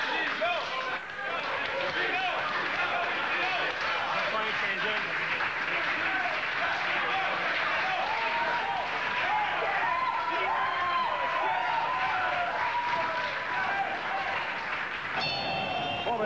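Crowd at a boxing match cheering and applauding steadily throughout, a continuous roar of clapping and voices with a commentator talking over it.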